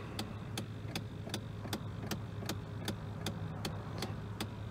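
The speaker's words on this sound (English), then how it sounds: "there's this terrible clicking in the dashboard" Steady, evenly spaced clicks, about three per second, tick from the dashboard of a 2001 Chevrolet Silverado over a low, constant engine hum inside the cab.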